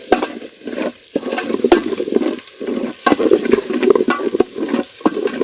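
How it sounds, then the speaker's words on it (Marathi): Spices for Malvani tambda rassa sizzle in a pan while a spoon stirs and scrapes in quick, irregular strokes. The sound is close and fairly loud, with no talking. "मसाले चांगले एकदम परतलेत."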